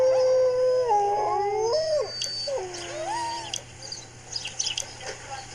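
Greenland dogs on a husky farm howl in long, wavering, rising and falling tones, several voices overlapping close by before the howls break into shorter yips and whines.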